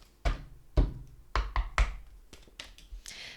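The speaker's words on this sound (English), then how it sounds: "I'm gonna knock." A series of hand knocks on a surface before a tarot card reading, about six to eight firm thunks in an uneven rhythm, close and fairly loud with no talking.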